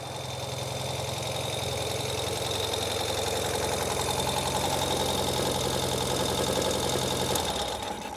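A 2023 Ural Gear Up 2WD motorcycle engine idles steadily at a slightly raised speed, a continuous, even mechanical hum with no talk over it.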